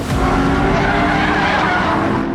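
Loud, close Aston Martin race car engine roaring continuously with a harsh skidding, squealing edge, sustained for a couple of seconds, at the Spa-Francorchamps circuit in Belgium.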